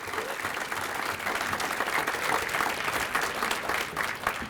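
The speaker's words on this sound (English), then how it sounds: "So let's give Pat a round of applause for the Aldo Vagnazzi Spirit Award." An audience at a volunteer breakfast gives a steady round of applause for a spirit award recipient, continuous dense clapping from a roomful of people, moderately loud and unbroken throughout.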